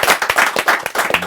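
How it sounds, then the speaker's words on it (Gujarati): Loud audience applause with dense, rapid clapping from many hands at a podcast recording for the Gujarati film '31st', swelling in short bursts and filling the whole moment with no talk over it. "અને એક વખત જોરદાર તાળીઓ સાથે બધા જ ભાઈ"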